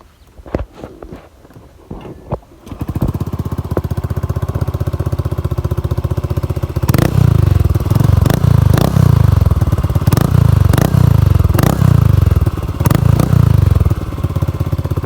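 A Honda PCX scooter with a modified loud exhaust starts after some close clatter and footsteps, then idles with a deep, throbbing rumble. It is revved harder partway through, with repeated throttle blips, loud and close, and no talking.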